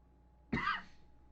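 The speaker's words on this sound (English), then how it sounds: "I'm coughing a little bit today" A single short cough from a man playing a Magic: The Gathering card game online, close to the microphone and isolated in an otherwise quiet room.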